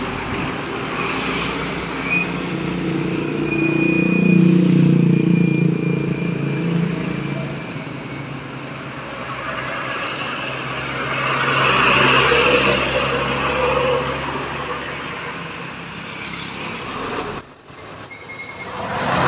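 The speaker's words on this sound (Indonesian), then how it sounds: "Bus pariwisata mengarah ke Aceh, sepertinya rombongan." A tour bus travelling toward Aceh, likely carrying a group, passes with a steady engine rumble and road roar that swells and fades, plus a brief high whine near the end; no one speaks.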